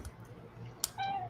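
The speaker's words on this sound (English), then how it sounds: "Mew Mew, why are you meowing at me?" A pet cat named Mew Mew lets out a single short meow near the end, close but fairly soft over a quiet room hum, preceded by a faint click.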